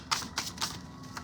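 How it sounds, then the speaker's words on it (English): Tarot cards being shuffled by hand, with four or five quick, crisp papery taps and riffles close by in a quiet room. "Why am I even shuffling these cards like this?"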